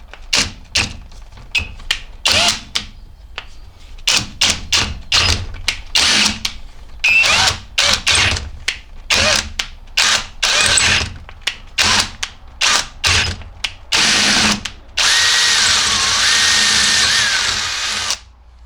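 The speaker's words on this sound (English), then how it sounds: "So we're going to drill it out if I can." An electric drill drills out a bolt hole to M12 on a Vauxhall Vivaro 2.0 engine, in repeated short bursts, starting and stopping many times, then a longer continuous run at the end, loud and close.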